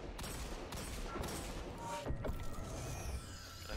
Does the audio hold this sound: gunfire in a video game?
yes